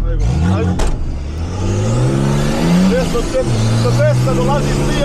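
An off-road racing car at the Serbian Trophy revs hard and accelerates, its engine loud and close with rising and falling pitch as the crew talk over it.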